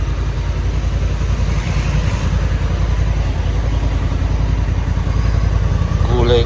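A Honda NT1100 DCT motorcycle, 1100 cc twin-clutch automatic, idling nearby with a steady low throbbing engine rumble throughout, a voice talking faintly over it.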